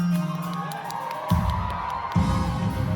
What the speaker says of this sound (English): She only had the one clip with a cheer duration of roughly 3 seconds